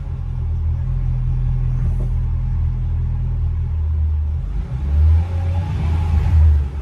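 A Mercedes E55 AMG engine idles with a low steady rumble, then a soft clunk as its slipping automatic transmission engages, followed by brief revving swells near the end.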